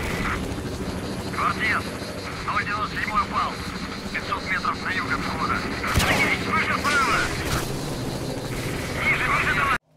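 Attack helicopters droning overhead in the game STALKER: Shadow of Chernobyl, a steady rotor hum with sharp gunshot cracks and a loud bang midway, while a person talks over the action.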